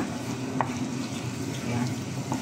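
Cooked pasta tossed in a pan, a steady close sizzle with a few scraping stirs, no talk.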